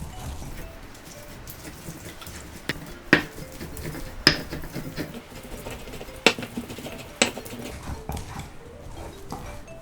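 Soaked dried red chillies being ground with coconut into a paste, a quiet, continuous scraping texture broken by a handful of sharp knocks and taps.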